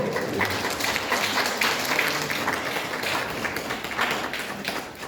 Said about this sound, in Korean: 박수로 환영해 주시길 바라고요